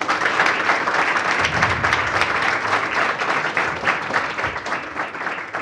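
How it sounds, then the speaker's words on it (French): An audience at an expert panel on parking enforcement gives a warm round of applause, a thick steady patter of many hands lasting several seconds, easing slightly toward the end with faint voices beneath. "Bonne main d'applaudissements."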